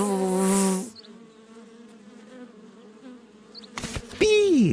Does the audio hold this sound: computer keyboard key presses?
no